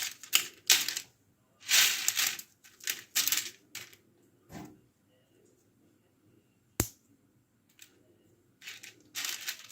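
Dried fried pasta snacks crackle and snap as they are crushed and broken by hand, close, sharp crunching bursts in irregular clusters separated by quiet pauses, with one isolated loud snap.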